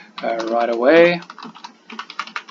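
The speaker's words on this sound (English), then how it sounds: "You can get in there and start typing" A few spoken words, then quick, irregular clicks of typing on a computer keyboard, light and close.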